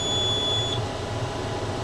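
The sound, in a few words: baler alarm warning that the net wrap has run out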